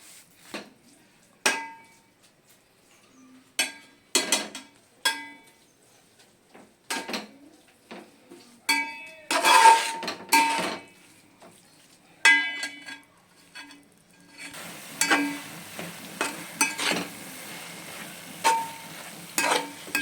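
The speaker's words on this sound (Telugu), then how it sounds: "ఈ చక్కెర అంతా మంచిగా కలిసేటట్టు కలుపుకొని మీడియం ఫ్లేమ్లో ఉడికించుకోండి" Grated carrot halwa with sugar being stirred in a pan over a medium flame, a steady run of close spoon scrapes and knocks against the vessel, with faint sizzling building toward the end.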